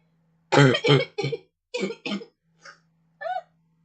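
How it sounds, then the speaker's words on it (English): A woman with a cold coughs in a quick series of harsh, close bursts, roughly five loud coughs followed by a couple of fainter throat sounds, over a faint steady hum. "I'm just going to cough up a lung now for the rest of the video."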